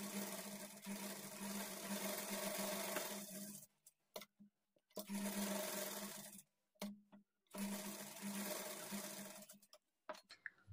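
A sewing machine stitches the lining of a blouse, running in three steady, fairly loud bursts of whirring with short silent pauses between them and no talking.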